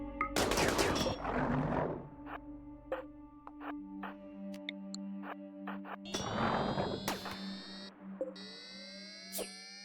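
Gunfire in RimWorld aimed at a Diabolus mech, bursts of rapid shots and metallic clanks and pings, with two heavy dense volleys separated by sparser ringing impacts and game tones.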